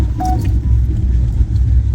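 Inside a car setting off on the road to an engagement ceremony, a steady low engine and road rumble runs throughout, loud and continuous, with a brief faint jingle near the start.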